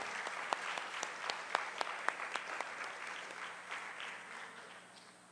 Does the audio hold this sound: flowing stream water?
no